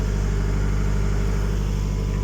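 A narrowboat engine runs steadily at about 1400 revs while cruising a weedy canal, giving a loud, even, throbbing diesel drone with a regular pulsing beat and no talking.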